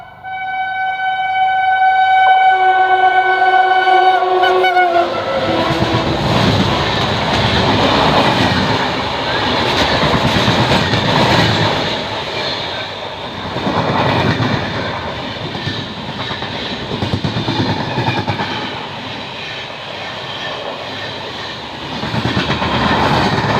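Mumbai–Bengaluru Udyan Express overtaking and passing close by: a loud, multi-tone horn sounds for a few seconds, then a long, heavy roar and rhythmic wheel clatter that swells and ebbs as the coaches rush past.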